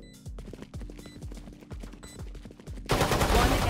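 Rapid gunfire from the tactical shooter game Valorant cracks out in a steady run of sharp shots, with a louder, denser burst at the end.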